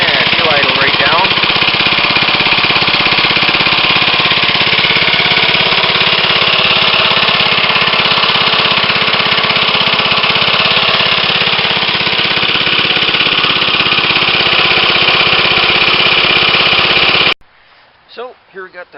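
A 1965 Briggs & Stratton lawnmower engine idles loudly and steadily for about seventeen seconds with a dense, continuous chugging drone, then cuts off abruptly, leaving a few faint knocks and quiet noise.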